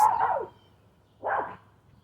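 A dog barks twice in a garden: two short, fairly close barks separated by a pause of under a second, with no talk around them.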